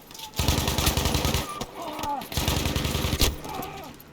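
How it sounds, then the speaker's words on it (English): Two enemies fire on the player in Battlefield V, sending out two dense bursts of rapid automatic gunfire, loud and close, with brief gaps and scattered whizzing impacts between them. "I got 2 guys shooting."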